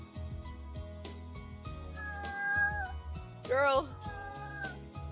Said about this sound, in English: Sorry if you hear the cat meowing loudly in the background.